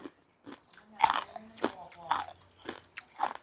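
Crispy fried pork rinds crunched close up in the mouth, several loud crisp bites and chews spaced out, with someone speaking between them.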